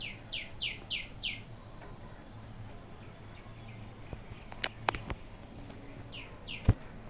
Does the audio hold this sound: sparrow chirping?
yes